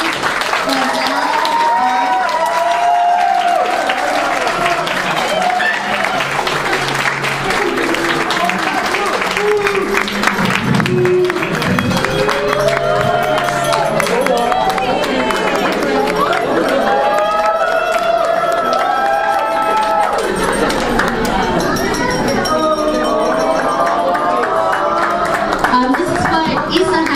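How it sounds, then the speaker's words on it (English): At a rose ceremony, a crowd claps and cheers for a celebrant's parents, loud and continuous, mixed with music carrying a melody and scattered voices throughout. "let's give a big round of applause for her parents, Mr. Marconi and Mrs. Rosella"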